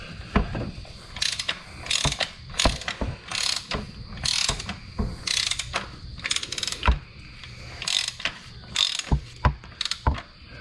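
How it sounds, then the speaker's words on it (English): A socket wrench ratchet tightens the oil drain plug on a Ford F-150 with a 2.7L engine, giving close, crisp bursts of rapid clicking, about ten short runs spaced by brief pauses, with no talking. "grab your socket and give it another gentle twist, but don't over tighten it"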